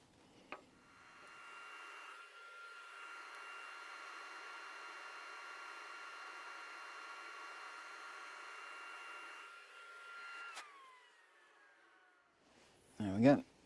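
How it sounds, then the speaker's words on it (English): A power sander works the back of a wooden handle for a hex-drive pin chuck, a steady whirring hiss held for about eight seconds before winding down, with a click beforehand and a short burst of talk at the end. "I'm just going to sand the back of this"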